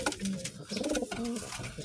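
Racing pigeon cooing close by, a soft low throaty coo repeated over a couple of seconds, with light handling noise around it.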